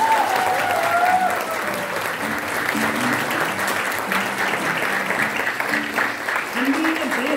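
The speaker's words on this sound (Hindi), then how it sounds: "यार तालियां बजानी है तो एक बार जोर से बजाओ" A seminar audience at a leadership development program claps loudly and steadily in a dense, sustained burst of applause, with a voice speaking briefly over the clapping.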